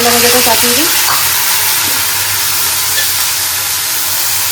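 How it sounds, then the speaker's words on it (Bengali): Bitter gourd and onion sizzle and hiss in hot oil, with brief stirring scrapes near the start and a steady frying crackle after. "আজকে করলাটা একটু পেঁয়াজ দিয়ে ভাজা করলাম"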